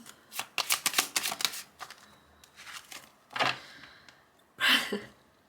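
A deck of tarot cards is shuffled close by in quick riffling bursts. A rapid flurry of flicks is followed by a few separate shuffles with short pauses between.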